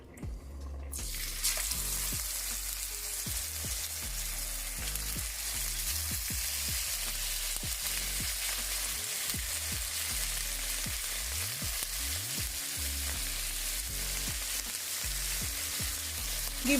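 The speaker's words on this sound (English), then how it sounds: "And now I'm going to fry up the shrimp" Shrimp and salmon frying in extra virgin olive oil, starting with a quick hit of sizzle and then settling into a loud, steady crackling hiss that lasts throughout, close by and without talking.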